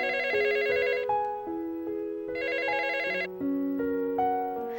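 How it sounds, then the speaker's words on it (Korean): A telephone rings with a repeating electronic melodic ringtone, loud and steady throughout, with no one speaking. "그런데 10분 뒤쯤 쌀통 회사에서 전화가 걸려왔습니다."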